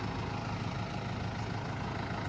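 Tractor engine running steadily at a low, heavy rumble as the driver engages it to start spinning, constant and close with no clear change across the short stretch.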